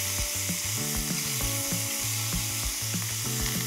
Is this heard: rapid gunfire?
no